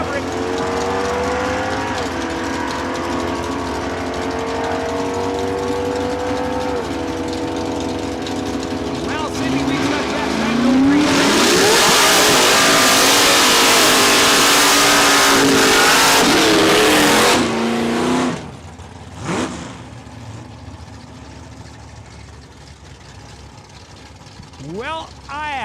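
Race cars accelerate at Saskatchewan International Raceway, engines droning and rising in pitch, then a loud close roar as cars surge past before fading into distant revving, with a voice heard over the sound.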